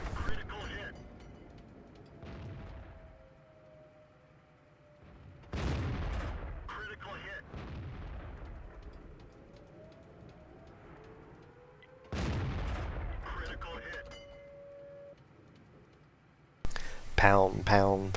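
Heavy tank cannon shots in World of Tanks on the Sand River map, three loud booming blasts spaced several seconds apart, each trailing into a long decaying rumble, with a metallic clattering burst at the very end and talk throughout.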